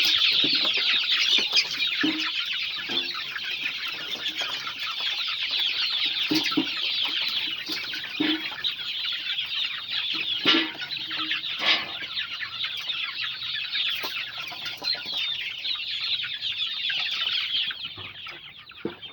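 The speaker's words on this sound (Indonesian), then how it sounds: "Nggak sabar guys, ayamnya sudah lapar" A flock of hungry chickens clucks continuously and close by, with overlapping cackles over a dense, unbroken chatter and occasional louder calls, and no talking.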